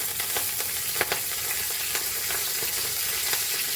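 Mustard seeds and curry leaves sizzling in hot oil, a dense, steady crackling hiss with small popping spatters throughout, close and continuous, no voices.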